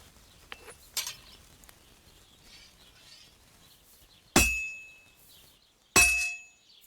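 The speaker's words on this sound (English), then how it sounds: "Hammer to a rhythm." A hammer striking a sword blade at a forge in the medieval game Kingdom Come: Deliverance II, two loud ringing metallic clangs a second or so apart, each with a long fading ring, after faint, softer taps.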